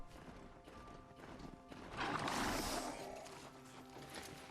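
Horse in Horizon Zero Dawn (The Frozen Wilds) with hoof clip-clops and a neigh rising loud in the middle over a steady game soundscape, no talking.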